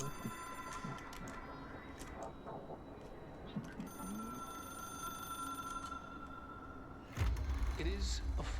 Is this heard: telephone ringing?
yes